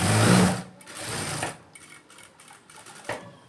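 Sewing machine stitching along the lining edge of a silk blouse, a loud close whir that stops after half a second, then returns in softer short runs and taps.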